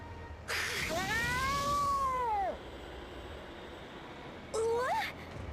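Cat meowing in the Bravely Second video game: a long, drawn-out, wavering meow followed after a pause by a shorter rising meow, loud and close over a quiet background hum.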